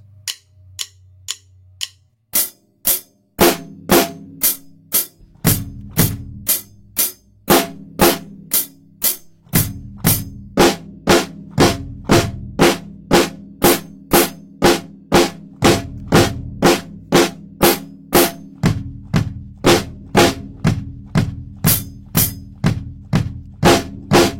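Drum kit exercise of two hits on each drum around the kit, a long run of evenly spaced sharp strikes in steady rhythm, the pitch shifting as the pairs move from drum to drum, close and loud without talk.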